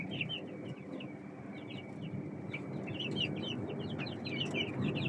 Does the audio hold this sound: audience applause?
no